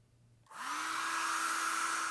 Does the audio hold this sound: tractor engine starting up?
no